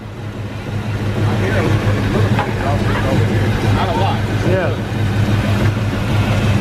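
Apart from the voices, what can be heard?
car engine with exhaust leak and bad muffler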